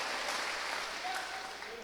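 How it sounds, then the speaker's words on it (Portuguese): A church congregation applauds, a dense, steady wash of clapping that fills the space throughout, with a faint voice briefly audible beneath. "Pode aplaudir ao Senhor."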